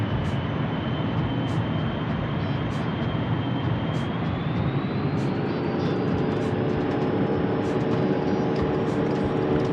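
Garuda Indonesia Boeing 737-800 taking off, a loud continuous jet engine roar steadily building with a rising whine, heard close from inside the cabin with no talk.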